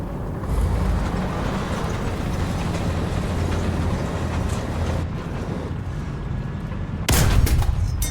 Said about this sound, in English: he is getting shot at from behind